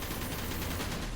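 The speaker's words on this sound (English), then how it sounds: "Hellhound will whip out your giant machine gun, but you won't be able to move while firing it" Hellhound's giant machine gun firing in the video game Gungrave G.O.R.E: a dense, unbroken roar of rapid gunfire at steady loudness, with no voices.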